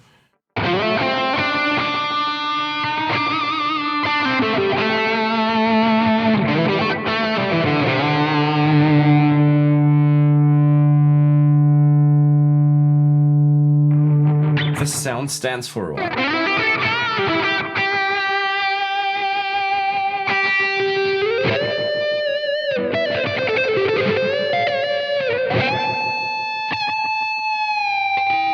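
High-gain distorted electric guitar through a Blackstar St. James amp plugin with compressor, sustaining notes including a long held tone and fast lead runs, loud and continuous. A brief spoken phrase appears.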